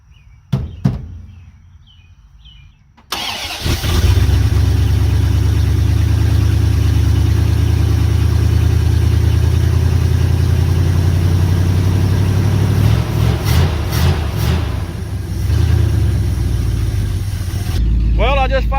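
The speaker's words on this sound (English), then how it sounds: "Well, I just fired it up" A 1971 Dodge D100 truck, abandoned for 34 years, cranks briefly and fires into a loud, steady rough idle close by, with a few revs partway through and a voice speaking before it starts.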